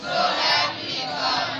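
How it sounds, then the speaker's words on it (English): A crowd at a college admission ceremony applauds and cheers, a dense, steady wash of clapping and voices heard from a moderate distance for a moment. "A round of applause for yourself."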